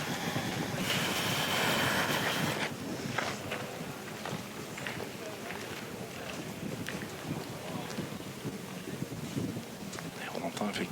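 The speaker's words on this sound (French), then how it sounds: "Et on entend effectivement le vent qui commence à bien se lever." Wind rises outdoors at a pétanque match, a broad rushing gust that swells early then settles into a steady, fairly faint buffeting hiss across the whole stretch.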